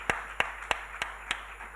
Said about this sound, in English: A hand of applause to Mr. Zephania Reuben, co-founder of Camel Labs.